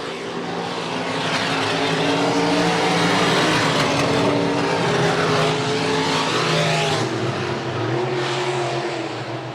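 Stock cars roar past at Buena Vista Raceway in a loud, continuous engine drone, several cars charging off the final turn with pitch rising and falling as they sweep by close to the track.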